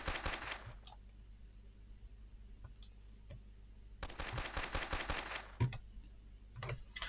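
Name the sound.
gunfire shooting an enemy in EFPSE video game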